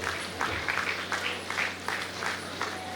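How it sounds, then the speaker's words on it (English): At a school annual day event, an audience of parents applauds in a hall. The clapping comes as a steady, moderately loud patter of many hands in rhythmic bursts. "may I demand of you parents, a louder applause please"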